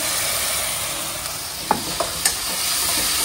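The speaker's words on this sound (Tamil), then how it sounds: "ஆனியன் வதங்கிடுச்சு. இதில் இஞ்சி பூண்டு பேஸ்ட் கொஞ்சமாக சேர்த்துக்கிறேன்." Onion frying with a little ginger-garlic paste for Hyderabadi biryani gives a steady, even sizzle throughout, with a few soft clicks of stirring near the end and no voices.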